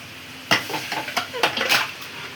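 Chicken pieces tumble into a hot pot of spiced biryani base and are stirred, giving a run of clattering thumps and scrapes with a soft sizzle underneath, close and moderately loud.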